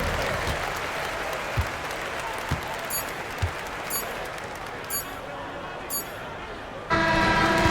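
A simulated arena crowd in the NBA 2K25 basketball video game applauds and murmurs steadily in the background, with brief horn-like toots and thumps along the way and a louder burst of cheering at the end.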